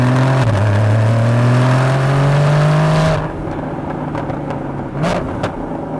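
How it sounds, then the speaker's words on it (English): A Porsche Cayman 981 GTS engine revs hard with a rising, sustained drone, then drops away as the car downshifts, with a short throttle blip near the end. Loud and close, with no talk. "Downshift, what a sound."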